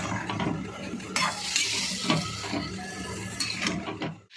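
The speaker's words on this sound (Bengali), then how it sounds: "জোরে করে দিয়ে ভালো করে কষিয়ে নেব।" Squash in masala being fried and stirred hard in a pan: dense, continuous scraping and rattling from the spatula over a steady sizzle, loud and close.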